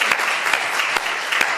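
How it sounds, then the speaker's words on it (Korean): A church congregation at a Sunday worship service applauds to welcome guests, with dense, steady clapping close by and a few sharper claps standing out. "박수 환영하겠습니다"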